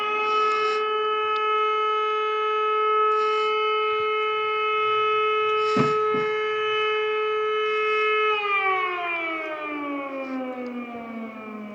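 A city civil defense siren test in Megion wails as a loud, sustained steady tone that holds for several seconds, then slowly winds down in pitch, with a few faint knocks in the background.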